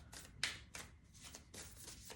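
A deck of tarot cards, not especially small, is shuffled by hand in quick, repeated riffling bursts, quiet and close, with no voices.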